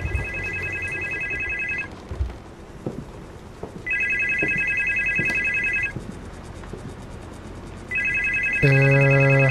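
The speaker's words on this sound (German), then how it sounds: "Wir gehen jetzt mal runter, weil unten klingelt das Telefon." A telephone downstairs in the video game Supernormal rings in three loud electronic trilling bursts separated by pauses, over a dim, noisy room ambience, ending with a sharp tonal chime.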